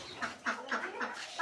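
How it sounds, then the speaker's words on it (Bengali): Ducks on a small poultry farm in a Bangladeshi village quacking in a short run of close, nasal calls, four or five in quick succession. "দেখতে পাচ্ছেন এটার মধ্যে হাঁস।"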